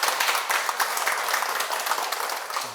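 A lecture-hall audience claps together at a Sunday talk, a dense steady patter of many hands filling the room for a few seconds before thinning out.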